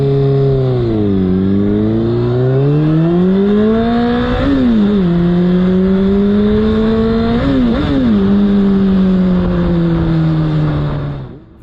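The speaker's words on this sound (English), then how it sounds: "he revved his engine" A motorcycle engine revs up and down repeatedly, loud and close, the pitch climbing and dipping in several surges before cutting off abruptly.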